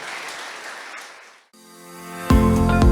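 A church congregation applauds after a sermon, a dense wash of clapping that fades into a brief silence before music swells in loudly at the end.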